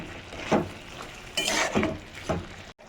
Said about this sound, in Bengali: মশলা দিয়ে দেওয়ার পর মশলা খুব ভালোভাবে মিশিয়ে নিতে হবে সবজির সঙ্গে।